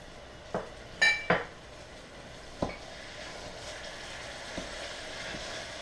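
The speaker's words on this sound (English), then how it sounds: "You want to break all of the meat apart, and you want it all to get nice and brown in the hot oil" Ground turkey frying in hot oil in a pan, a soft steady sizzle under a few sharp clinks and scrapes of a utensil stirring and breaking up the meat.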